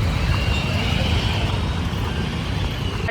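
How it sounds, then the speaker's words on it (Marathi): Traffic sits jammed on a road with cars and two-wheelers stopped. Engines idle and rumble continuously, with a loud, close low drone that holds steady throughout. "traffic jam"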